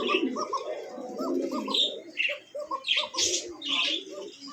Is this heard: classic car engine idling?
no